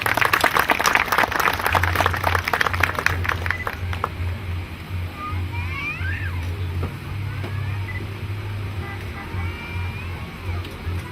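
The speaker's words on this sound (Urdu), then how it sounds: "آپ لوگوں کی بھرپور تالیوں میں جی" Applause from an award-show audience breaks out loudly as dense clapping, then thins out and fades into a steady low hum with scattered faint sounds.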